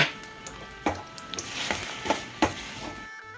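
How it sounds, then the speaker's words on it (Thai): Coconut sugar being stirred in a hot pan until it melts, with a steady close sizzle and several sharp scrapes and knocks of the spatula against the pan, then the sound cuts off. "พอกระทะร้อนใส่น้ำตาลมะพร้าวหรือน้ำตาลปี๊ลงไปค่ะ ผัดไปมาสักแป๊บหนึ่ง"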